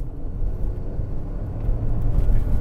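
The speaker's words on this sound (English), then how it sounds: "You can see the RPMs is like shooting up, revving higher." A 2021 Ford Bronco Sport crossover's engine in sport mode gives a deep, close rumble that builds and swells toward the end as the revs climb.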